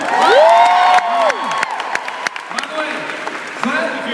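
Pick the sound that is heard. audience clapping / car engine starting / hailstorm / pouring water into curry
audience clapping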